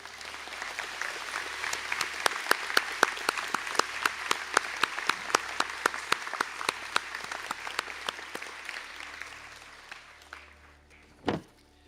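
A round of applause for graduates at a college conferring ceremony: distinct clustered hand claps, moderately loud and steady, fading out near the end before a single sharp knock.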